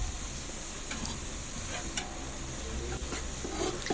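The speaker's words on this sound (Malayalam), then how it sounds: "ഇനി കുറച്ച് തക്കാളി ഇട്ട് കൊടുക്കാം. എല്ലാം കൂടെ നന്നായിട്ടൊന്ന് ഇളക്കിയെടുക്കാം." Tomatoes stirred into a sizzling fish curry base of tuna, a steady frying hiss with occasional light scrapes and taps of the spoon, close and continuous.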